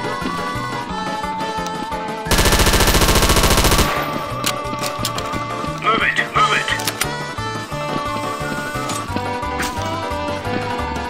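A loud, continuous spray of automatic gunfire rips for about a second and a half in Counter-Strike: Source on a zombie-escape Super Mario 64 map, over steady game music and scattered effects.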